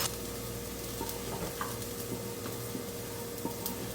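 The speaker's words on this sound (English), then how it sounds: "once your pan's hot, add your egg" An egg fries in a hot pan on medium heat, giving a steady, even sizzle that runs unbroken throughout, with a few faint ticks and clinks and no talking.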